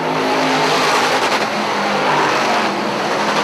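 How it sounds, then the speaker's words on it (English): Dirt modified race cars roar around the dirt speedway at Airborne Speedway in Plattsburgh, New York, producing a loud, continuous engine howl with passing surges and rising and falling revs, heard without talk. "The 91 of Donor has been able to hold off Rivers with that R7 car"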